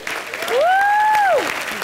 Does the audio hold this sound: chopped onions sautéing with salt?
no